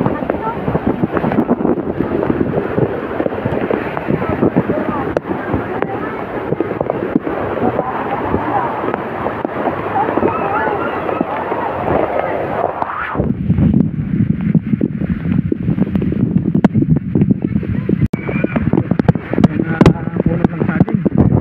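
A fast, flooded river current rushes in a steady broadband roar, with wind buffeting the microphone, the water tone shifting partway through as a person speaks over it.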